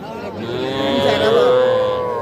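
A young bull calf at a cattle market lets out one drawn-out moo that swells and fades over about two seconds, loud and close, with market murmur faintly behind.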